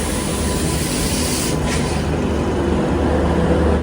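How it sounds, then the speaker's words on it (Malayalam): A loud, close, continuous rumble of a Palakkad-bound train rolling into platform 3, with a short burst of hiss partway through and no voices over it. "പാലക്കാടേക്ക് പോകാനുള്ള ട്രെയിൻ ഇതാ പ്ലാറ്റ്ഫോം നമ്പർ 3 കടന്നു വരികയാണ്"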